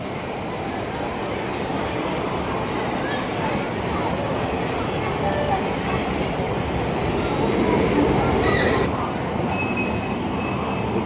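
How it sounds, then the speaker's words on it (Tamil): Mini ride-on train running through Lulu Mall in Thiruvananthapuram, Kerala: a steady close rumble with rattling wheels and a brief squeal near the end, continuous and fairly loud, with crowd noise around it. "இப்போ இந்த ட்ரெயின் எவ்வளோ அழகாக வருகிறது"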